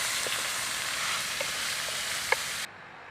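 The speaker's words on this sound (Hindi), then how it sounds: "तकरीबन 5 से 6 मिनट तक जो है इसको घी में अच्छी तरह भून लेंगे।" Handmade beef mince frying in ghee, a dense, steady close sizzle with occasional small taps of stirring, cutting off abruptly near the end into quiet room tone; no voices.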